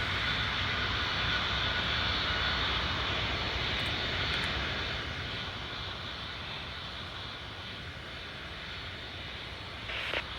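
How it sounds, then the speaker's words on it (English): A KLM airliner's engines roar in Tower Simulator 3 at Amsterdam airport, a loud, steady, broadband jet rumble with a high whine that holds throughout and eases only slightly toward the end. "let's hear some engine noise"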